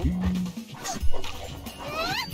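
Barking from a dog character in the fighting game Them's Fightin' Herds, a few sharp yips and barks over game music and effects, with a commentator talking over the match.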